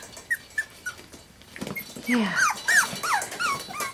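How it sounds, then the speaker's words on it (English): Small five-week-old Aussiedoodle puppy yips and whimpers nearby, a few short high cries at first, then a busier run of squeaky yelps, with a brief word spoken. "Who's barking over there?"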